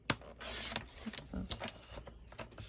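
Card stock is trimmed to size for layered handmade cards, heard as a few close mechanical clicks and a short sliding cut, quiet and irregular, with no speech.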